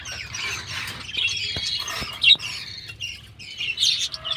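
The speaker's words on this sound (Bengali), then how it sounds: "আর এক জোড়া নতুন পাখি" Several small birds squawk and chirp close by, overlapping harsh calls with brief clicks and rustles, busy and uneven throughout.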